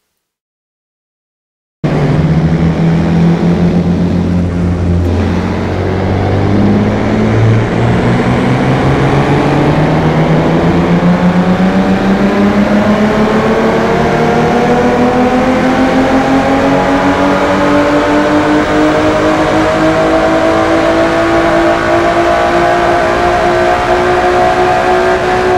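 A twin-turbo car engine in Forza 4 pulls from 2,000 RPM in fourth gear, starting after brief silence and rising in a steady, loud drone that climbs smoothly in pitch for over twenty seconds; no talking.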